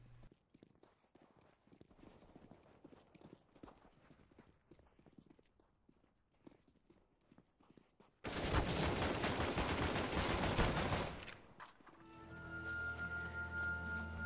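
Gunfire in the video game CSGO, a burst of loud, dense shots cutting in after quieter footstep-like clatter, then dropping into steadier tonal game sound.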